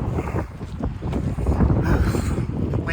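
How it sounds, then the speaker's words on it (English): Strong wind gusting outdoors in a store parking lot, a loud continuous rumble buffeting the microphone throughout with no talking. "Windy."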